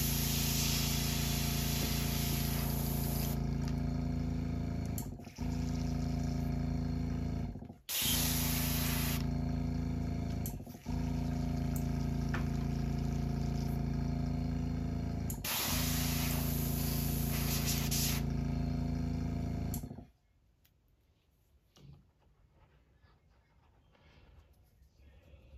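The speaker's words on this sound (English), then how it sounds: "I'm gonna go ahead and clean my airbrush out." An airbrush being cleaned out sprays a loud, steady hiss in long bursts with brief breaks between them, then stops, leaving faint handling noises.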